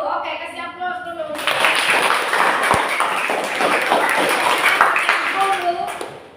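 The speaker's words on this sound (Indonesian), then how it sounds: "kasih aplaus dulu" Children in a classroom burst into applause, a dense patter of many small hands clapping at close range for several seconds, with a teacher's and kids' voices heard before and after.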